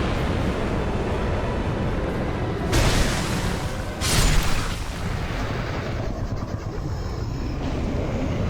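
The Ancient Dragon's fire breath in Dark Souls II, a dense roaring blast with two sharper surging bursts in the middle, loud and sustained over several seconds before tapering off.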